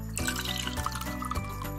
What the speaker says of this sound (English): Ready, let's pour some tea.